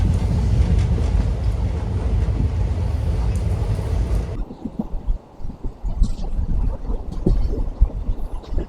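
Kanchankanya Express passenger train running past a newly built station still under construction: loud steady rumble of rail travel for the first half, then quieter uneven clatter and rattling of the moving carriage.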